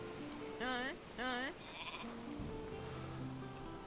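Sheep in the video game Northgard bleat twice in quick succession, clear and close, amid soft game ambience and a brief tone.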